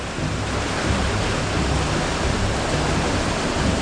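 River water flowing out where a clear stream meets a muddy one, a steady, loud broadband rush close by with no talking.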